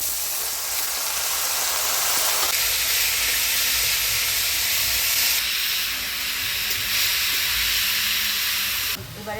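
Chopped onion and giant taro stems fry in hot oil seasoned with dried chili and nigella seeds, giving a loud, close, continuous hiss and sizzle that shifts slightly as the ingredients go in.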